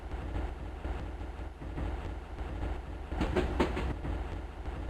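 A train rolls along the tracks in the video game Barkley, Shut Up and Jam: Gaiden, giving a steady low rumble with faint rhythmic clatter and a brief louder rattle near the end.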